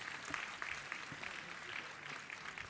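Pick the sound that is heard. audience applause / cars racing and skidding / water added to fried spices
audience applause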